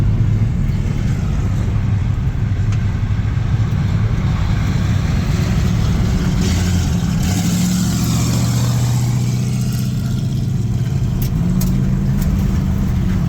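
A 1953 Chevrolet 3100 pickup truck engine running close up, a loud continuous low rumble that holds steady throughout with slight swells in revs.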